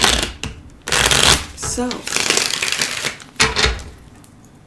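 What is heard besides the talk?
shuffling a deck of tarot cards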